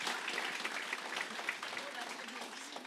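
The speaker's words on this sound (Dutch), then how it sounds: "Geef ze een groot applaus." Applause from a live audience at a local talent show, a dense, steady wash of clapping that holds for the whole stretch with no pause.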